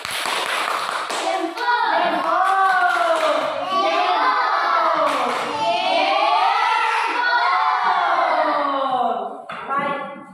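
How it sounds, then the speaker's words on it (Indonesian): Children in a classroom clap and cheer for the first group, a loud, continuous mix of applause and excited shouting that fades near the end. "beri aplaus buat kelompok 1"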